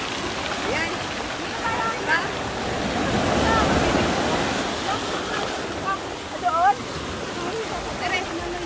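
Ocean waves surge and break on a rocky coast during a mountain hike, a broad rushing roar swelling to a peak midway, with wind buffeting the microphone and brief faint voices.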